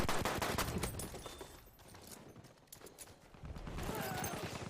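Rapid pistol fire from the M1912 repeater pistol in the video game Battlefield 1, quick cracking shots in fast bursts, a dense volley at the start, thinner in the middle and picking up again at the end.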